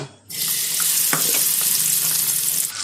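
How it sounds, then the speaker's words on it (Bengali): Small bata fish frying in hot oil in a kadai give off a loud, dense, steady sizzle that starts abruptly and continues with occasional crackles and pops. "তেল গরম হয়ে গেছে, আমি এবার মাছ ভেজে নেব।"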